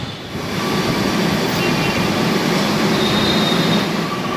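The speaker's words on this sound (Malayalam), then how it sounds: "ഇപ്പോൾ നമ്മുടെ ട്രെയിൻ എത്തിയിരിക്കുകയാണ്" A Kochi water metro boat rumbles in steadily and loudly to the terminal, with a faint high squeal, close and continuous.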